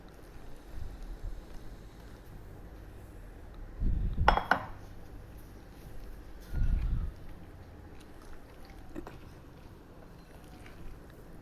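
Kara boondi batter being stirred in a bowl until smooth and lump-free, dosa-like in consistency, giving a couple of soft scraping, clinking bursts over a quiet background with no talking.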